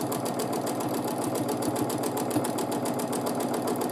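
A sewing machine stitches steadily through free motion quilting of a feather motif, its needle thumping in a fast, even rhythm with a continuous mechanical whir, close and alone without talk.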